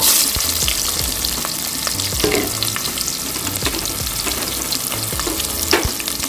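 Sliced onions go into hot oil already holding mustard seeds, cumin, fennel and cinnamon, for a horse gram dal rice: a loud, steady frying sizzle with crackling pops and a few stirring scrapes, and no talk.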